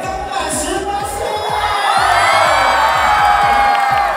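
A live audience at a Chinese New Year stage show cheers and applauds to welcome a girl on stage, a steady crowd roar with scattered whoops that swells louder midway.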